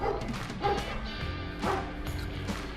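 A dog barks several times in short, loud bursts spaced about a second apart, close by and over a cooking setting with a faint voice in the background.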